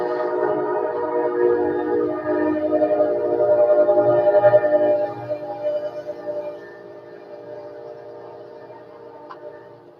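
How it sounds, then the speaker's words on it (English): A Kansas City Southern Railroad train rumbles past eastbound with a steady harmonic drone from its horn, loud at first and then slowly fading into the distance. "There's the Kansas City Southern Railroad."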